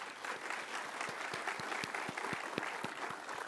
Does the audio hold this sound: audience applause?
yes